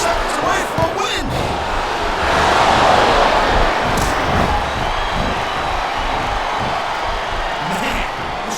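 A wrestling arena crowd cheers in the video game SmackDown vs Raw 2007, a steady loud roar of fans that swells in the middle, with thumps from the ring and commentary voices talking over it.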